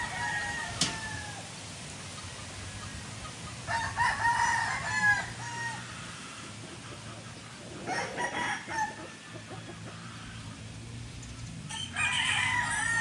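A Boston Millionaire bloodline gamefowl rooster, tethered outdoors, crows a few times at moderate distance, with faint clucks and quiet background noise between the calls.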